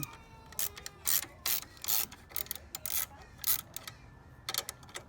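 Ratchet wrench loosening 10 mm bolts on the battery hold-down of a Honda S2000, quick clicking ratchet strokes in short repeated bursts, close and moderately loud, with brief pauses between turns.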